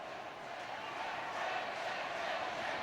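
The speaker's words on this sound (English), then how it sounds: "The Tip crowd getting behind their team" A Tipperary hurling crowd roars steadily throughout a Munster semi-final against Clare, a dense, continuous wall of cheering that swells slightly toward the end.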